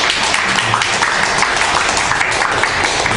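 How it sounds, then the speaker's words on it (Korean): A church congregation at a Wednesday prayer service claps together, a loud, even wash of many hands sustained throughout without a break. "우리 함께 나온 모든 분들을 위해서 우리 축복의 박수 같이 보내겠습니다"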